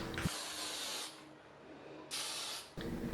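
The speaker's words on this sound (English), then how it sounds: "I'm going to apply 3 coats of this spray-on top coat over the drawer and over the tabletop." Varathane Diamond water-based semi-gloss wood finish hisses from a spray can onto a drawer and tabletop in two steady bursts of about a second each, separated by a quieter pause, close and fairly loud.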